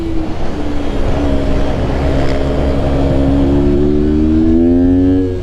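Mini motorcycle on a race track during an out lap on cold tyres, engine droning steadily and rising in pitch as it accelerates, close and loud with no talk.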